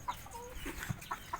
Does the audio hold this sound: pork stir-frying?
no